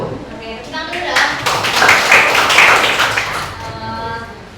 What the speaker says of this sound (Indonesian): Oke, tepuk tangan dulu dah.